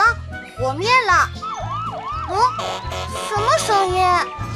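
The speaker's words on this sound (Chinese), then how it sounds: "无畏的消防车高迪来了" A cartoon fire truck's siren wails in repeated rising and falling sweeps over bouncy children's music with a steady thumping beat.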